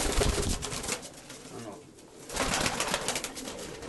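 A lively, eager male pigeon coos in short bursts, fairly close, with a quieter pause in the middle, while a person talks over much of it.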